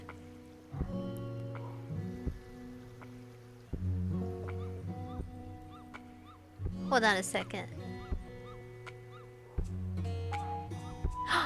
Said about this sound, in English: Okay, sorry, it's a dog barking.